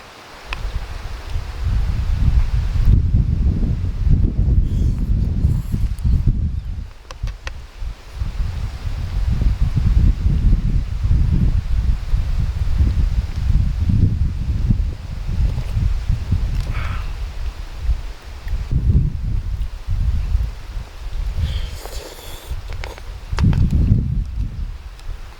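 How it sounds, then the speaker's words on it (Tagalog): Wind gusts outdoors sweep through rustling leaves in a familiar spot in America, a steady broadband rush that swells and eases in waves, fairly close and with no one talking. "simoy ng hangin."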